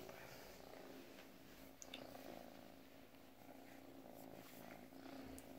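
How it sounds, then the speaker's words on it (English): Steady, soft cat purring continues throughout, close and low, with faint rustling and small clicks now and then. "Oh yes, that's a good purr."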